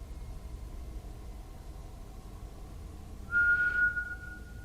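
A single short, high whistle sounds from a distance inside an abandoned building, clear but faint above a low, steady rumble of background noise.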